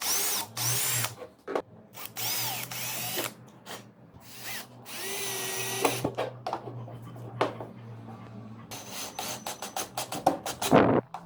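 A power drill drives a pivot screw into a circular saw table while a straight-cut guide is fitted, heard as repeated close, loud bursts of motor whine separated by short pauses, with handling noise and a final strained run.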